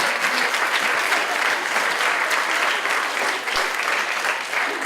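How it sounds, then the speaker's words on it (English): Dense, steady round of applause from a luncheon audience, many hands clapping evenly and close for several seconds with little else heard. "Would you give the woman a round of applause?"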